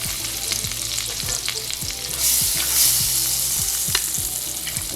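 Butter sizzles and crackles in a hot pan as jerk chicken pasta is started, a steady frying hiss with repeated stirring scrapes and taps close by, no talking.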